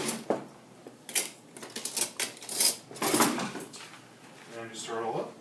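A spoon clinks and scrapes around a bowl of maple Dijon chicken mixture in a series of uneven, close taps and scrapes, with people talking softly alongside.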